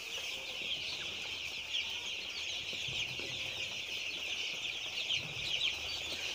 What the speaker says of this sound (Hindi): आपको हम अपना फार्म दिखाते हैं कितना चिक्स ये हमारा चिक्स पड़ा हुआ है 2000 चिक्स हमने डाला हुआ है